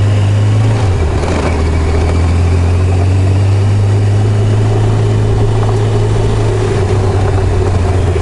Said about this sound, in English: So we got an adventure bike here, a Enduro, 1000cc Enduro here.